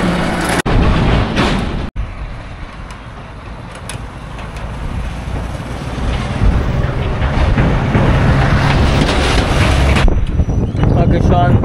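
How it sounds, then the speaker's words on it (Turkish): Heavy wind buffeting the microphone on a bridge over a river in Bangladesh, a low roaring rumble with a couple of sharp dropouts, continuous throughout. "Biraz rüzgar var."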